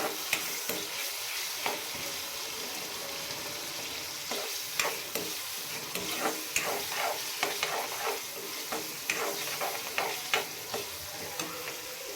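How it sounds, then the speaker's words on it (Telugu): Onion and green chillies tossed into hot oil with cumin and mustard seeds for a red lentil tomato curry, stirred continually: a soft, even sizzle with frequent light clicks and scrapes of the spoon against the pan, fairly quiet and close. "ఇప్పుడైతే ఆనియన్ పచ్చిమిర్చి వేసేస్తానండి కొంచెం ఫ్రై అయ్యేంత వరకు కలుపుకోవాలి"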